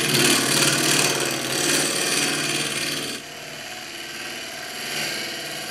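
A bowl of resin and timber offcuts spins on a wood lathe while a tool scrapes across it, a loud continuous rasping whir that drops to a quieter, steadier hum partway through.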